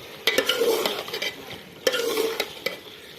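Spoon stirring frying ingredients in a pot for aloo anda curry, two bursts of scraping over a bright sizzle with clinks of metal, close and fairly loud, no talk.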